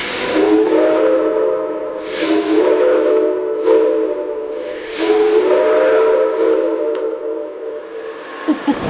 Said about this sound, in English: blow the whistle while she still had steam pressure in the boiler